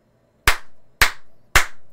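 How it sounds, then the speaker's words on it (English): Three sharp hand claps, evenly spaced about half a second apart, close and loud against near silence. "But now check it out when I clap"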